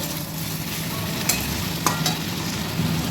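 Chicken and onions fry in a pan, a close, continuous sizzle with a couple of soft scraping stirs and no talking.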